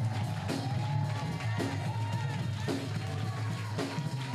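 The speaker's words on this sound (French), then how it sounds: "Est-ce que tu peux donner une offrande d'acclamation à notre Seigneur?" A church congregation cheers and acclaims in praise during a French-language sermon, a rolling crowd roar with shouts and whoops that swells in waves while a preacher speaks over it.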